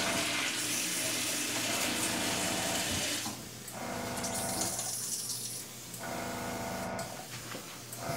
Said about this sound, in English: Bring it over here, I'm going to rinse it out.